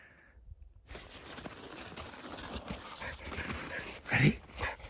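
A dog outdoors on a trail in northern Patagonia, heard as a short burst of barking or excited panting near the end, after a brief quiet opening, with rustling movement in between.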